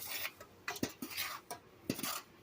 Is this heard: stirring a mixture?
yes